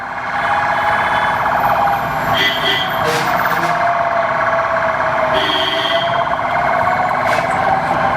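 A loud wailing ambulance siren cycles continuously up close, its pitch sweeping up and down over a steady drone.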